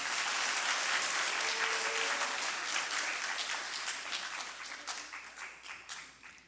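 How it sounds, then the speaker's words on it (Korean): A church congregation breaks into warm, sustained applause to welcome visiting student performers from a Philippine school, steady and full at first, then thinning into scattered claps as it fades. "자, 박수로 환영하겠습니다."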